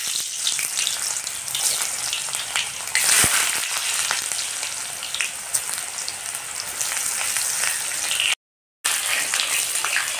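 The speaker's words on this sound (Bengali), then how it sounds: "কড়ার মধ্যে আলুগুলো দিয়ে আমি ভেজে নেব।" Potatoes fry in hot mustard oil in a kadai with a loud, continuous sizzle and scattered sharp crackles throughout. The sound drops out briefly near the end, and there is no talking.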